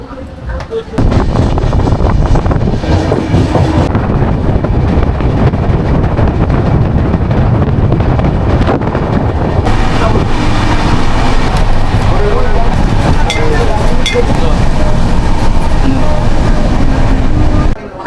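Howrah to Digha passenger train rolling along the rails near Uluberia, a steady loud rumble and rattle of wheels and carriages throughout with wind buffeting, and faint talk underneath.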